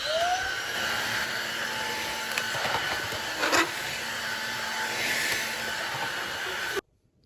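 A Vactidy Blitz V9 cordless stick vacuum runs with a steady, close whirring hum on carpet, with slight shifts in pitch as it moves, then cuts off abruptly near the end.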